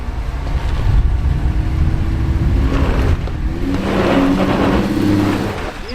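A Jeep crawls over rocks on the John Bull Trail in Big Bear, California, its mid-pitched engine droning close and loud and swelling in short revs as it climbs, with no voices.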